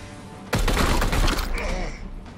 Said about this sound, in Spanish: Y ahora ya disparamos.